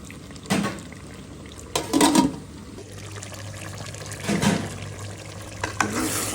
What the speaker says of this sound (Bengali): দিয়ে দিলাম রসুন আলু একটু কষানো হোক